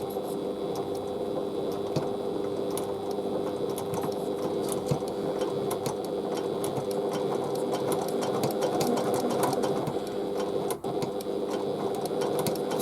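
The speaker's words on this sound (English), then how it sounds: "I'm going to start by stitching just past the folded and raw edges." Sewing machine stitching bias binding along folded and raw fabric edges, a steady rapid mechanical whir with even needle rhythm running continuously, close and moderately loud, no voices.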